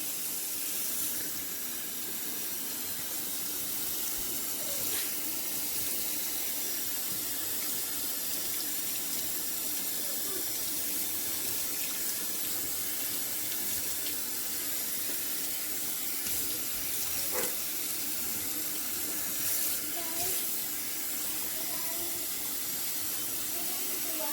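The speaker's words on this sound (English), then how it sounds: "we do not want to use hot water. Lukewarm water on the cooler side." Lukewarm tap water runs steadily into a sink while a lace frontal wig is being rinsed, a continuous close splashing hiss with no pauses and no talk.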